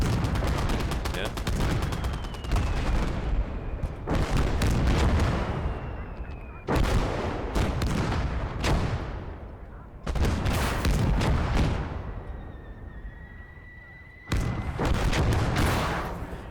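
Heavy gunfire and booming artillery from the WWII strategy game Call To Arms: Gates Of Hell, a Russian campaign battle: loud repeated bursts and blasts in clusters with whistling shells, dense and continuous.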